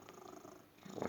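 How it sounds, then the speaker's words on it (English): A pet cat purrs close by, a soft continuous rumble that swells louder toward the end, with no talking over it. "That's my cat."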